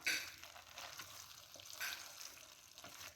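Methi aloo (potatoes with fenugreek) cooking covered in a pan on low heat, giving a faint, steady soft sizzle and hiss with light crackles throughout.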